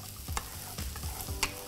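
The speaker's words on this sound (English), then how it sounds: "Before I add any liquid or any water, I would like the kale to cook a bit" Kale cooking in a pan with ginger for a chickpea curry, a faint sizzle with soft, repeated stirring scrapes spaced roughly every half second.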